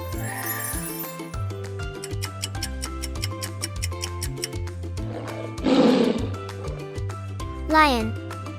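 A lion's roar from a children's animal-learning song, a single rough burst lasting about half a second, rising out of steady, bouncy background music.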